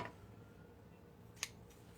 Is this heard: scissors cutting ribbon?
yes